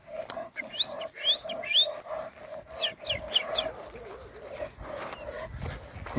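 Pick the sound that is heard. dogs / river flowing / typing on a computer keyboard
dogs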